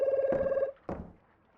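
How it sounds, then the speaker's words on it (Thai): A phone rings in a fishing video game with a steady electronic bell tone, loud and alone, then it cuts off and a short second burst follows before fading. "เหมือนโทรศัพท์เข้านะ"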